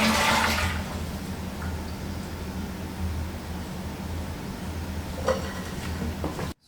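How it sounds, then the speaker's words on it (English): A toilet flushes during a wax ring replacement, with the supply valve already shut: a loud rushing gurgle of draining water that holds steady for several seconds and then cuts off abruptly at the end. "You want to empty the toilet by flushing it."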